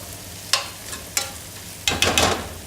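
Calabaza caramelises in a hot pan, giving a soft sizzle while a spoon scrapes and stirs in a few short strokes, the last ones quicker and bunched together, close up with no talking.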